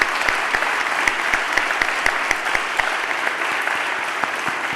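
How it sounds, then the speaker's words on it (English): Large conference crowd at a city-focused gathering gives a big, dense round of applause, loud and continuous, with a few sharper individual claps standing out through the wash. "help me give a big round of applause"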